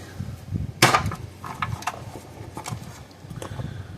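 A flat screwdriver knocks terminal bolts out of a Gallagher M1100/M1500 electric fence energizer, giving one loud sharp metallic strike followed by scattered lighter clicks and taps, close by with no talk.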